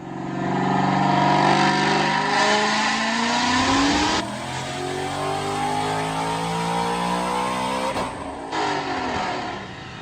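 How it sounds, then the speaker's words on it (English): A supercharged 2016 Mustang GT with an Edelbrock supercharger, Cook's headers and Roush mufflers roars through a loud dyno pull, engine note climbing steadily, then dropping off and rising again briefly near the end. "So check out this dyno pull."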